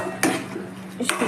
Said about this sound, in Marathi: आता यामध्ये मी रवा घालत आहे.